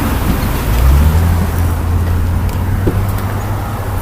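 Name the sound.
Chevrolet Tahoe rolling by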